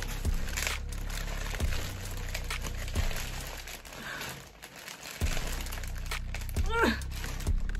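A clothing haul parcel is opened by hand, its plastic packaging rustling and crinkling in sharp bursts, with a few louder crunches spread through the stretch and a brief squeaky tone near the end.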